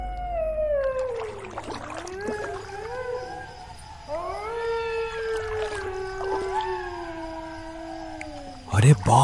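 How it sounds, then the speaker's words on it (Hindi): Several jackals howling at night, with long wavering, rising and falling howls that overlap and repeat, loud and fairly close, and a sharp noise at the very end. "ये सियार कितनी डरावनी आवाज में चिल्ला रहे हैं"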